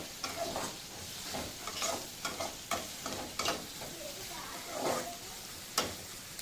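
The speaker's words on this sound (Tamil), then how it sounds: "வெங்காயம் கொஞ்சம் வதங்கிட்டு நல்லா வதங்கின பிறகு வெட்டி வச்ச காய்கறி போடணும்" Onions with chopped carrots and beans sautéing in a pan for a stir-fry: a low sizzle under repeated scraping strokes of a spoon stirring, uneven in rhythm and close up.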